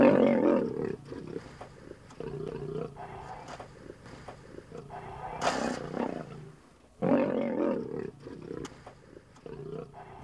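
Asiatic lions in Gir roar and growl in a fierce dispute over a fenced area, with deep repeated roars in bursts, a brief pause near the middle, then another loud close roar.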